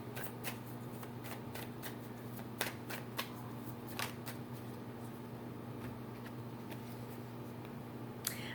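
Tarot cards being shuffled, a run of crisp riffling snaps and soft slides repeating steadily over a low steady hum, fairly quiet and close.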